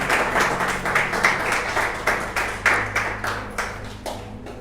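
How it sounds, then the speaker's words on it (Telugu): Church congregation clapping loudly, a dense crowd of handclaps swelling in repeated rhythmic bursts about every half second, close and steady with no talk over it. "గట్టిగా చప్పట్లు కొడదాం పరిశుద్ధాత్మకి."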